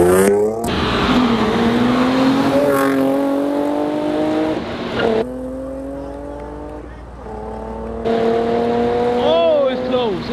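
Two cars, a Nissan Z and a Mercedes-Benz, street race at a takeover, engines revving loudly and climbing through gears with repeated shifts and a tire squeal, while excited spectators shout and talk close by.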